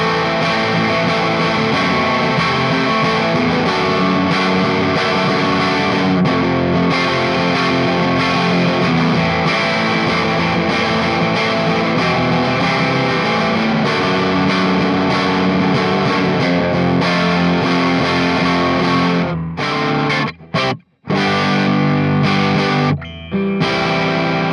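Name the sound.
electric guitar, lightly driven amp tone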